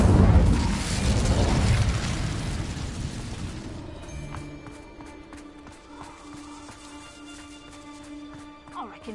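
A fiery Incendio spell blast in Hogwarts Legacy opens with a loud, roaring boom that slowly fades over several seconds into quieter crackles and ambient tones.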